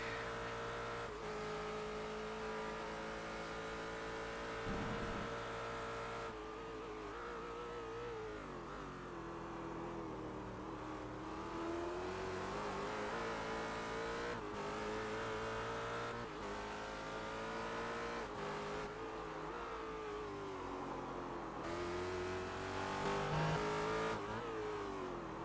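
Race car engines from the iRacing sim at Virginia International Raceway wail continuously, revving up and down through gear changes with occasional tire squeal, loud and sustained throughout with no talking.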